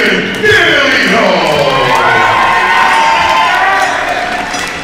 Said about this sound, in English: A lot of fans in the crowd.